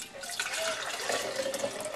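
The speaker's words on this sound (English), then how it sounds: "So now I'm going to take our 120 degree milk and pour it into" Warm milk at 120 degrees poured into 2-quart mason jars: a steady, close, continuous liquid stream that splashes and gurgles throughout, with no talking.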